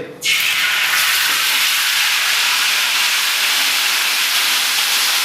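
Fermented soybean paste drops into hot oil and bursts into a loud, continuous sizzling hiss that holds steady throughout, with no talking.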